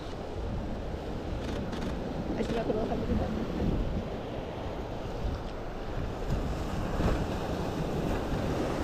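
Surf breaking on a sunrise beach during an outdoor photo shoot, a steady roaring wash of water mixed with wind buffeting the microphone, continuous and fairly loud with no speech.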